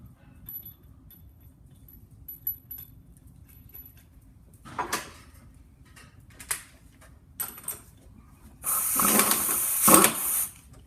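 Tightening the nut on a Land Cruiser transfer case: scattered metallic clicks and taps of a tool on the nut, then a loud rapid ratcheting burst near the end, all in an otherwise quiet workshop.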